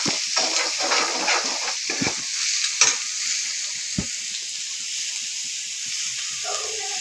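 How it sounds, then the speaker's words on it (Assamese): Spices, chilli powder, ginger, garlic and onion frying and being stirred in a kadai, a steady loud sizzle with scraping stir strokes and a few sharp knocks, no talk. "মছলা জলকীয়া কিবা কিবি জলকীয়া গুড়া আৰু আদা নহৰু পিঁয়াজ ভাজি আছে"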